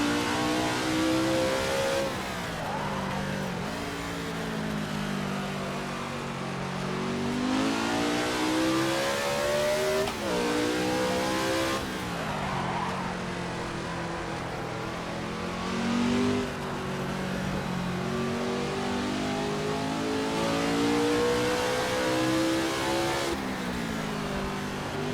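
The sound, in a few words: 1967 race car engine revving, driving game (video game)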